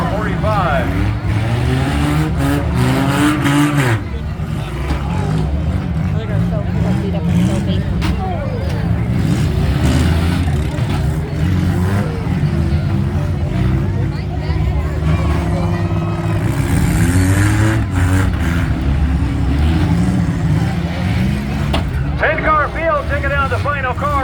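Demolition derby car engines at the Allen County Fair rev and roar in repeated surges, loud and close, with crunching knocks, under an announcer talking over a PA throughout.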